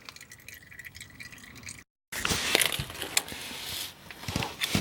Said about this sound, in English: So it's just finishing up draining right now